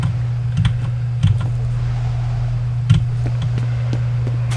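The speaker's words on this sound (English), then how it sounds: "the only thing I don't like about playing with the Corsair K65 is this is a short width keyboard" Keystrokes on a Corsair K65 short-width keyboard during a F.E.A.R. gaming session, a few scattered clicks over a steady low electrical hum, fairly close, with no voices.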